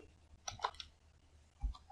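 Computer keyboard typing, a few short soft clicks and key taps in quick irregular bursts, close and faint.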